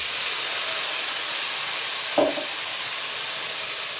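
Yellow, red and green peppers sizzle steadily in a hot pan for jerk chicken rasta pasta, a loud, continuous hiss with one brief clink partway through and no talking.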